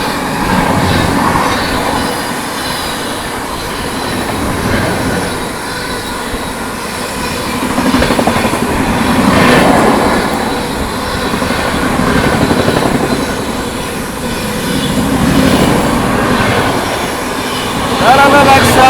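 A superfast train on a parallel track rumbles past close by at night in India, heard from aboard another train, with a heavy, continuous roar and rattling wheels, swelling and fading in waves over a steady mechanical drone.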